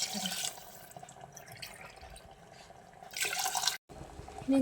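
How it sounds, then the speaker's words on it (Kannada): Water running from a tap into a glass used to measure water for cooking egg biryani rice, a steady splashing pour in a home kitchen that swells louder near the end. "ಆ ಲೋಟಲ್ಲಿ ನೀರು ಹಾಕೊಂಡು"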